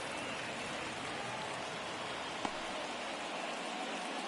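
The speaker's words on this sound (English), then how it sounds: "It feels like we might be headed towards a rain delay if the weather doesn't ease up, Chris." Steady, dense rain pours down during a live baseball game broadcast, a constant hiss that fills the scene at moderate volume with no voices over it.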